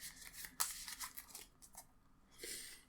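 A deck of Marvel Champions cards is shuffled close up and quietly, giving soft riffling, crinkling bursts in a few quick irregular runs.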